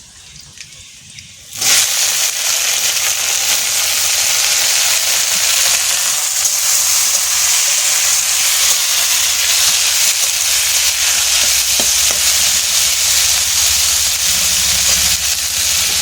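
Garlic frying in a pan before yardlong beans are added, a loud, steady hiss and sizzle that bursts in after a brief quiet start and keeps going unbroken.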